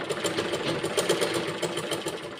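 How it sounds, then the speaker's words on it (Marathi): A sewing machine stitching a double seam on a blouse runs with a steady, rapid mechanical whir and rhythmic needle chatter, close and continuous with no talk. "याच्यावर थोडी डबल शिलाई टाकून घ्यायची"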